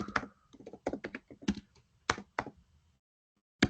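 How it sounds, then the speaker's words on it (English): Keys clatter on a French computer keyboard in quick, irregular bursts of close, crisp taps with short pauses between them, and a final sharp keystroke lands after a brief gap. "I'm using a French keyboard."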